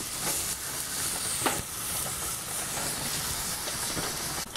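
Blue marlin loin searing on a hot salt block over a grill, a steady loud sizzle and hiss throughout with a few sharper crackles, close up.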